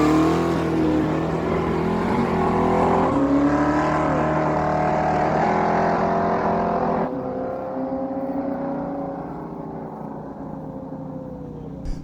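A 2019 Dodge Challenger with a 3.6-liter engine drag races a 1968 Chevy Camaro with a 454 big block at a no-prep dragway, engines roaring and revving loudly, then dropping in pitch as the cars pull away.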